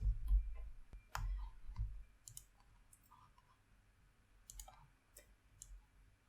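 A computer mouse clicks sharply and sporadically in a quiet room while a Unity editor is being worked, single and double clicks spaced irregularly with soft pauses between.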